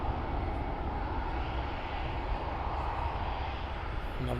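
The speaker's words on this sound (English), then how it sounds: "Another Wizzair taxiing on." A Wizz Air airliner taxiing at Luton Airport produces a steady, broad jet-engine roar that holds at an even level throughout, fairly close, with no talking.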